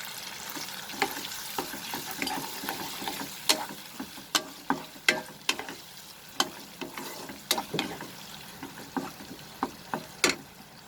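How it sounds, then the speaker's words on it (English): Vinegar and soy sauce hit a sizzling pan of chilli soybean, giving a steady close fry crackle broken by sharp clicks and scrapes of stirring throughout. "Now we will add the vinegar. We'll add little bit of soy sauce."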